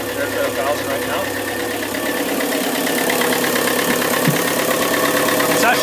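A Yanmar 4JHE 44 hp marine diesel idling at about 1,000 RPM, a steady close rumble with an even knocking pulse throughout, continuous and loud.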